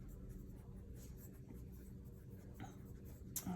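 Pen writing a chemistry formula by hand on paper for a hydrate problem, a soft continuous scratching close by over low background hum, with a brief sharper stroke near the end.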